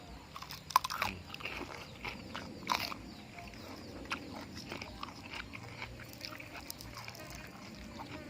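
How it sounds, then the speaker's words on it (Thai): Crunchy homemade Thai crispy pork skin being bitten and chewed, a run of sharp close crackling bites and crunches over several seconds, with low voices murmuring in the background. "หนังกรอบมากเลยกัดให้ดูก้ามสั่นเลย"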